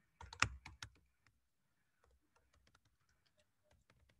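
Computer keyboard typing notice text into a learning management system, a quick burst of loud keystrokes at first, then sparse quieter taps and clicks spread out.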